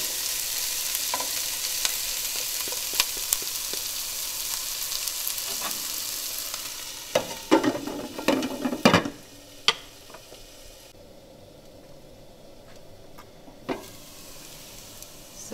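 Masala for aloo gobi cooking in a covered pan, a steady close sizzle and hiss with a burst of scraping and clattering stirring in the middle, then quieter simmering with an occasional knock.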